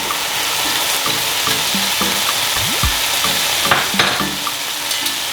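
Minced garlic and chili paste sizzle in melted butter in a pan while a utensil stirs and scrapes through them, a steady frying hiss with repeated clinks and scrapes and no talking.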